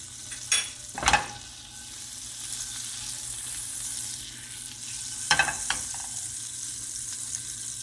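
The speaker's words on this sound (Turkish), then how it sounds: "Şu şekilde tereyağında kızaracak." Food frying in butter in a pan gives a steady soft sizzle, broken by a few louder stirring scrapes and clinks near the start and middle.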